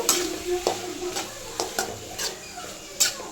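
Boiled vegetables being stirred into fried onions in a pan, with a soft sizzle under repeated scraping strokes of a spoon against the metal at an uneven rhythm.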